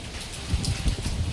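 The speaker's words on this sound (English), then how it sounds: "Rain keeps coming and going" Rain pattering down outdoors during changeable stormy weather, a short dense hiss of drops with soft low thumps of heavier drops hitting a surface, with no voices.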